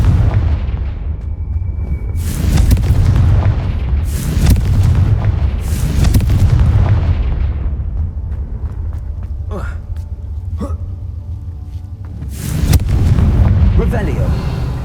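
A Confringo fire-blast spell from a magic-themed video game goes off repeatedly, several loud booming blasts with rumbling tails spread across the span, mixed with game sound effects and some talk.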